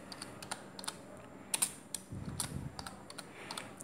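Keys tapped on a computer keyboard while entering text in Photoshop, giving scattered light clicks with a short busier burst in the middle, quiet and close with no talk.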